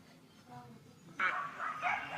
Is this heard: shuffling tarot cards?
no